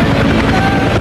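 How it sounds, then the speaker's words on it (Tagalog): Rescue helicopter of Japanese forces landing after an earthquake and tsunami, a loud close rotor drone with steady throbbing beats throughout a brief moment. "Bawat paglapag ng rescue helicopter ng Japanese forces, pag-asa ang dala."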